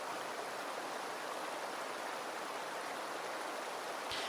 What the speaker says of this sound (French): pénétrez progressivement et en toute sécurité sous cette cascade